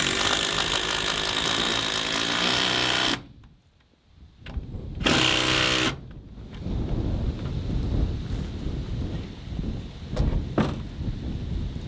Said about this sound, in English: I've got these larger lag bolts and I'm gonna lag bolt this 2x to the wall.